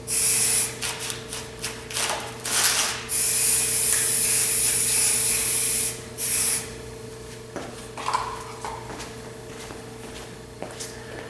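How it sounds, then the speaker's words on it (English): Several bursts of aerosol spray paint hiss loudly and close as HO scale model railroad track rails are sprayed from both directions, some short and one long, separated by quiet pauses and faint handling noises. "so you have to spray it from both directions"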